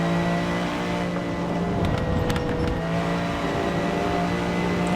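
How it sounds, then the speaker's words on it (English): A Lamborghini Miura P400 SV's V12 drones steadily in Assetto Corsa, a loud, sustained engine note holding near-constant revs with a brief flutter midway, no voices over it. "The sound from the engine is lovely. V12, I think you're hard pressed to beat a V12."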